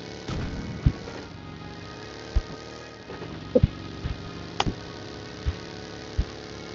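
Car engine in PUBG Mobile idling and running at a low, steady rumble, with several sharp knocks and thuds scattered over it.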